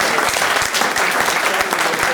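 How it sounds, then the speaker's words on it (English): Steady, dense applause from an audience at a Citrix tech event fills the room: many hands clapping at once, loud and continuous for a couple of seconds. "Big round of applause for all the CCP."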